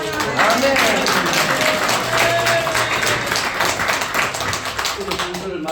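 A church congregation claps together during a March 1st Independence Movement memorial worship service, rhythmic group clapping that stays loud throughout, with voices mixed in.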